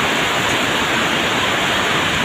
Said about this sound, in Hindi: जी आवाज़ आ रही है ना सारी बारिश की।